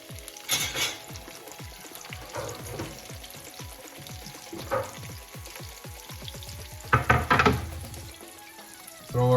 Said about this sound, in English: grab our onions, throw your onions in there